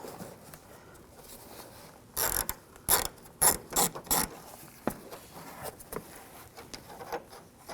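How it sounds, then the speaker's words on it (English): A ratchet fitted with a T30 socket removes a bolt on a 2007-2013 BMW 328i, a few sharp bursts of quick clicks close to the listener, followed by fainter handling noises. "Use the same T30 socket. Take this bolt out."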